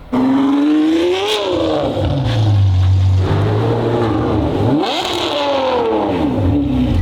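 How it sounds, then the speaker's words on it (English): A 600 hp Ferrari V12 running a Gintani ECU tune revs hard on a test drive, its loud engine note climbing and falling in sweeping pitch several times close up, with no talking. "the ECU is in, so now we're just gonna let Damon test drive it and see how it goes from there"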